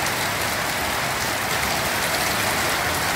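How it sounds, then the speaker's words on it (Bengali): Heavy rain pours in a dense, constant roaring hiss, close and loud with no pauses. "প্রচণ্ড পরিমাণে বৃষ্টি, 1 ঘন্টার উপর হয়ে গেছে এখনো বৃষ্টি থামছে না।"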